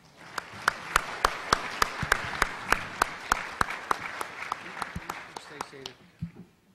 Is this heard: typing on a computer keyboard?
no